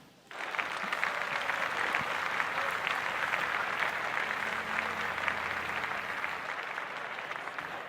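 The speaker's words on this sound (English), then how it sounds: "Clap that up." A large crowd applauds in a dense, continuous wash of clapping that starts abruptly and holds steady at full strength for several seconds, with no talk on top.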